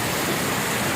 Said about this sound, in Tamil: மழை எப்படி பெய்யுது பார்த்தீங்களா, தண்ணி எப்படி விழுது பார்த்தீங்களா